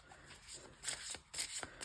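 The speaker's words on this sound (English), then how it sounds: "that's a pretty good shuffle, but I can't quite get my hands around it" A deck of tarot cards is shuffled by hand, a few quiet papery riffling bursts in close succession with no talk.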